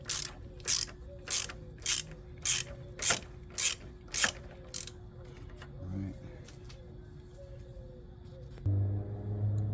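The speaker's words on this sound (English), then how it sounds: "I got the two 18-inch millimeter bolts taken off or loose" Hand ratchet on the engine mount bolts of a Ford Focus ZX4: eight quick ratcheting bursts in an even rhythm, close and crisp, then quieter mechanical handling and a low rumble at the end.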